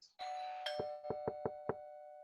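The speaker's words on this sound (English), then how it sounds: "The doorbell rings, followed by several knocks." A doorbell rings with a sustained chime during a high school stage production of Arsenic and Old Lace, then five sharp knocks on a door follow in quick, slightly uneven succession, close and clear with no talking.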